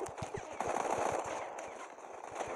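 Rapid bursts of video game gunfire crackle in a steady automatic rhythm, fairly close, over a busy layer of game noise during a free-for-all match.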